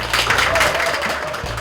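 Audience applause welcoming a speaker at a Korean school launch ceremony, a short burst of dense clapping from a crowd with a voice talking over it.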